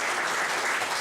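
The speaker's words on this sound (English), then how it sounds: "nice applause." Dense, steady applause from a conference audience after a talk, filling the room evenly from start to finish with no pauses.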